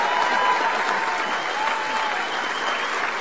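Sustained applause from a table of supporters for Daniel at an education awards presentation, dense and even clapping filling the room, with faint voices mixed in underneath.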